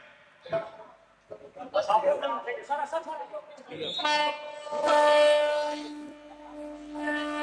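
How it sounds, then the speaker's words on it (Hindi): A MEMU train departs Abhanpur station on the Abhanpur–Raipur rail section at a public inauguration in Chhattisgarh. Voices and crowd noise come first, then a loud, sustained train horn rings out and holds steady to the end. "अभनपुर से ये ट्रेन रवाना हुई है।"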